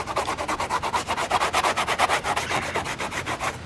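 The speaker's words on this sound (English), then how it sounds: "Then you're left with the old backing material. It kind of just rubs off." Old, spent backing material is rubbed off a car headliner board by hand, giving a rapid, steady run of rough scratchy strokes, close and fairly loud with no talking.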